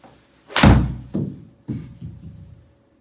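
A golf club strikes the ball during a full swing on a practice shot, one solid thunk followed by a few softer thuds and knocks, close and moderately loud with no talking.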